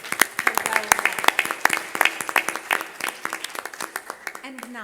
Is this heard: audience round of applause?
yes